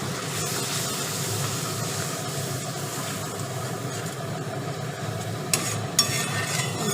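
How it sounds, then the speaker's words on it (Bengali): Ginger garlic paste frying with onion and tomato in a pan for khichuri, a steady low hiss and sizzle throughout, with a couple of brief sharp utensil clinks near the end and no voices. "আমি যে আদা রসুন সব কিছু দিয়ে যে পেস্টটা করে রেখেছিলাম সেই পেস্টটা দিয়ে দিলাম।"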